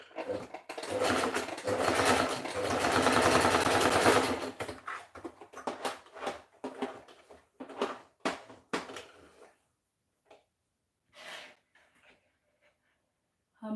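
A sewing machine stitching garment side seams runs in a loud burst for about four seconds, then breaks into short stop-start runs and scattered clicks with growing silences between them.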